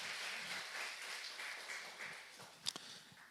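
Quiet applause from a congregation during a Sunday church service, soft scattered clapping at a distance, fading toward the end with a couple of sharper claps.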